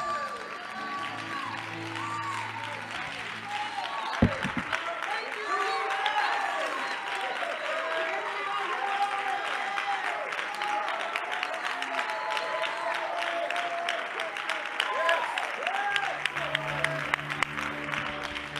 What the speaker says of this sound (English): I want you to do more than clap your hands for it right now.